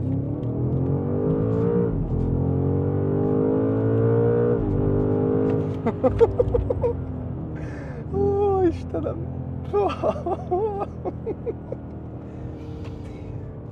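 A new BMW M5 sedan with 720 horsepower and 2.5 tonnes of weight accelerates hard. Its engine drones loudly and climbs in pitch for several seconds, then keeps rumbling underneath as someone talks excitedly.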